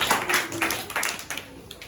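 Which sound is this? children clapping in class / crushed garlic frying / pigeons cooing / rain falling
children clapping in class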